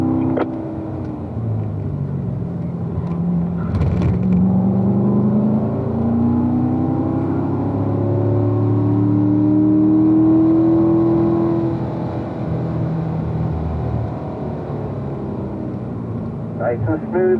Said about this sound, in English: A little throttle, smooth brake, little throttle, smooth brake.